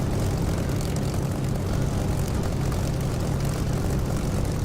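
A propeller aircraft engine drones loud and steady as the plane runs along a taxiway for takeoff in the DCS flight simulator game, a dense low rumble with constant broadband roar and no speech.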